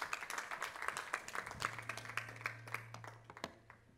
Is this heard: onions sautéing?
no